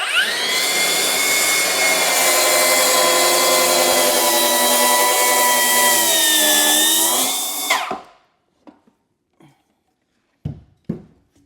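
A power saw cuts wood for a kitchen cabinet, a loud, close, steady whine that holds for about eight seconds and then winds down, followed by a few brief knocks and clatters of the workpiece.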